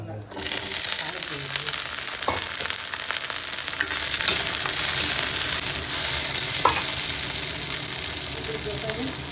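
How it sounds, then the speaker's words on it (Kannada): Cinnamon, cloves, poppy seeds, fennel and onion fry in hot oil for a village-style chicken gravy, giving a loud, continuous sizzle with the scrape of stirring over it close up. "ಚಕ್ಕೆ, ಲವಂಗ, ಗಸಗಸೆ, ಸೋಂಪು ಕಾಳು ಎಲ್ಲ ಹಾಕಿ ಈರುಳ್ಳಿ ಹಾಕ್ಕೊಳ್ಳೋಣ"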